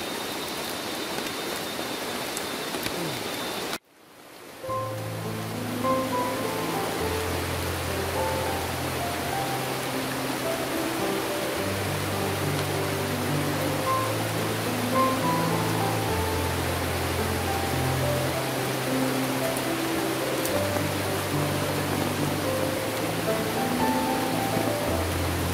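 Steady heavy rain pours down in a rainforest, a dense even hiss throughout with a brief break early on, while a low melodic tune plays underneath.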